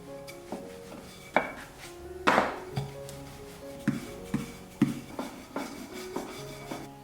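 A knife chops through a stack of thin rolled dough sheets, cutting them into strips for homemade sachima, with sharp, irregular taps against a board at close range and no talking.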